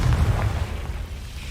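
Confringo blasting spell going off in Hogwarts Legacy, a loud booming explosion that hits at once and rumbles away over a second and a half.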